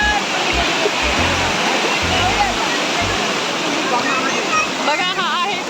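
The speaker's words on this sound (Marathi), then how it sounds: "आम्ही बर्थडे सेलिब्रेशनसाठी आलो आहे वनलक्ष्मी धबधबा" Vanlakshmi waterfall roars loud and steady in the monsoon, its continuous rushing water filling the scene while people talk and call out over it.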